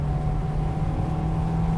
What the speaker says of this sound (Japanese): もうエンジンの音が全然気持ちいいね。